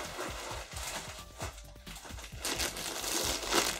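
A branded plastic packaging bag wrapped around a red laptop backpack crinkles up close, with irregular, quiet rustles and crackles throughout.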